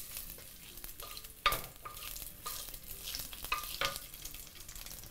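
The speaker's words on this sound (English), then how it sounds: "Once the oil is hot, add in your ginger." Thin slices of young ginger frying in hot oil in a clay pot, a steady close sizzle with scraping stirs and a few sharper clacks of the utensil, no voices.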